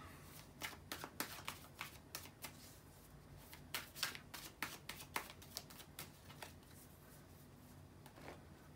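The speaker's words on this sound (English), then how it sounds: "let me shuffle the cards" Tarot cards shuffled by hand for a love and relationship reading, a quiet run of crisp riffling bursts, close and alone with no talking.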